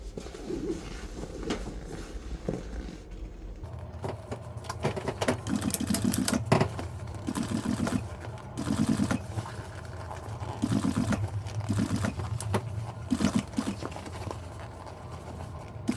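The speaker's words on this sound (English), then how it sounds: "I'm going to show you what it looks like whenever I'm sewing this double fell." Sewing machine stitching a double fell seam on a boat seat cover in upholstery work, with bursts of steady rapid needle chatter starting and stopping several times, close and fairly loud.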